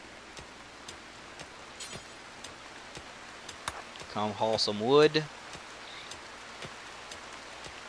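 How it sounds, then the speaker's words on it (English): Rain falls in the colony-building video game Rimworld as a faint, steady hiss with scattered soft drop ticks. It runs through the whole stretch, and someone speaks briefly midway. "It is raining."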